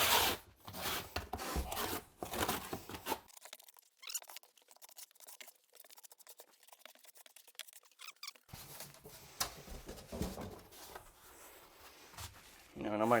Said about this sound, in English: just take the back side of the trowel and burn it into the thin set